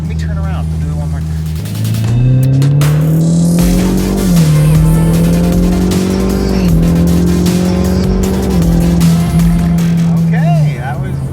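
Ford Mustang EcoBoost accelerating hard to about 90 mph, its engine note climbing through several gears with brief dips at each shift, loud and close throughout before easing off at the end.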